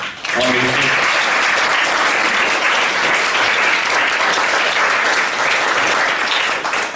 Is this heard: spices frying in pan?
no